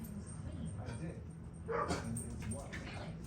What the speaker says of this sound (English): And there's my dogs.